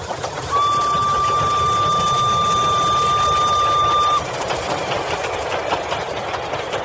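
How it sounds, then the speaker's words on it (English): A passing train in an audio-drama sound effect: a steady rumble of wheels and engine with a long, sustained whistle tone over it for several seconds, then the rumble carries on alone. "disturbed by the passing of countless trains"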